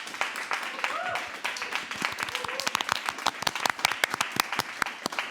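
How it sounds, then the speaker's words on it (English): Audience applause for guests at a panel discussion, starting as a soft patter under a voice and thinning into sparse, distinct individual claps near the close. "can I have a round of applause for our guests"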